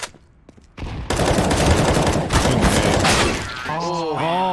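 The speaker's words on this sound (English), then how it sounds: "Grenade out." A grenade detonates in an online shooter game, a sudden loud blast with crackling debris after a thrown grenade, followed by a player's excited shout.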